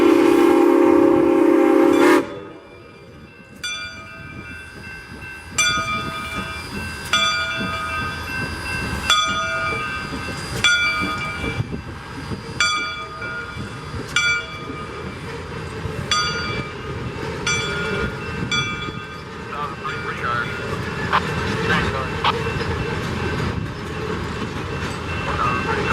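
Sioux Line 1003 train pulls away on a holiday evening, a steady rumble of rail cars with repeated whistle blasts rising over it, fairly close and continuous throughout.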